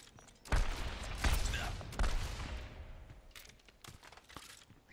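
Reaper's twin shotguns in the Overwatch video game fire in a few loud, booming blasts near the start, followed by fainter scattered shots and game noise trailing off toward the end.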